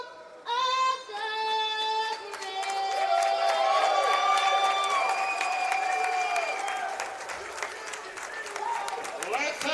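A stadium crowd claps and cheers at a Jersey Bearcats vs. Maryland War Eagles AAL2 game right after the national anthem ends, with sustained loud applause and whoops. An announcer's voice rings out over the crowd.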